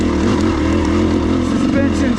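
A dirt bike engine pulls steadily in second gear on a Taylor Park trail ride, its loud continuous drone running close by under a rider talking.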